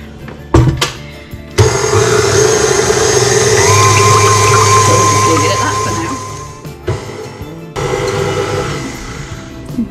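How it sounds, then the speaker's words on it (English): A stand mixer whips two egg whites to stiff peaks, a steady loud motor whir with rattling whisk that runs for several seconds before stopping, bracketed by short clunks. "I have my stand mixer here, and to my stand mixer I'm going to add the 2 egg whites, to be exact."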